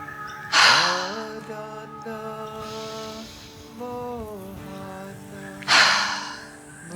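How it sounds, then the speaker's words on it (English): Two strong, close breaths break through during a full-body stretching session: a deep inhale followed by a sighing exhale out through the mouth. Each one stands out loudly over soft, sustained musical tones. "take some deeper inhalations and then exhale out through the mouth"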